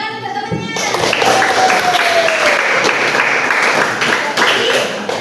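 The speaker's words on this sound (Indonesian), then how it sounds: "Ya, tepuk tangan untuk temannya." Classroom applause for a student, a dense burst of many hands clapping steadily for about five seconds after a brief opening with tonal sound, with voices faintly mixed in.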